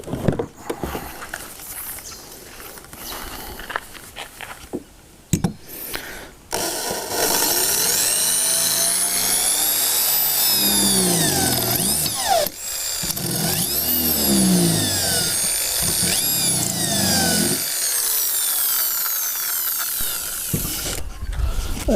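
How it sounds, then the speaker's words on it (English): A power drill bores a hole into a metal mounting bar for a Watersnake T24 trolling motor on a kayak, with short bursts followed by a long, loud whining run whose pitch rises and falls as the bit bites, close and with no talking. "let's get this hole drilled in there"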